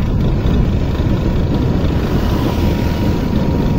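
A motorcycle with a broken rod, its engine roaring loudly and continuously with a heavy, rough low rumble and no pauses.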